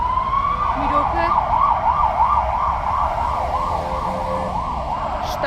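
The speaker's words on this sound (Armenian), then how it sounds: "Շտապօգնությունը անցնի, աղմուկը կտրվի։" An ambulance siren wails steadily on a Yerevan city street, its rising and falling tone loud and close throughout, over a constant rumble of passing traffic.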